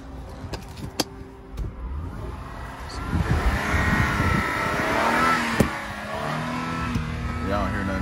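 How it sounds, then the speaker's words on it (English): Engine of a high-mileage used car at an auto auction revving as the gas is pressed, rising and swelling over several seconds amid background noise, with a few sharp clicks and a voice speaking. "Hit the gas a little bit on this one."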